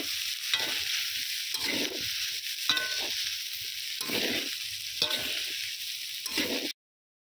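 Dalia and moong dal frying with vegetables for khichdi, a constant bright sizzle with about six rhythmic scraping stir strokes of a spoon in the pan, close, then an abrupt cut to silence.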